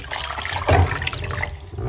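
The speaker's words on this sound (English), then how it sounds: "This is the boiling water from my kettle." Boiling water from a kettle pours into a large cup, a short close splashing gurgle with a brief swell in the middle.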